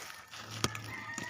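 A brooding hen clucks inside a hut, giving one short sharp cluck and then a softer second one against a quiet background.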